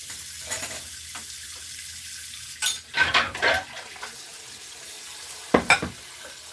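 Water from a kitchen tap running into a bowl in the sink, a soft continuous trickle punctuated by a few clattering knocks of dishes and cutlery.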